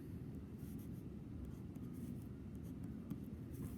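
Continuous pen-on-surface scratching while an equation is written out by hand during a math review lesson, steady and close, with no talk over it.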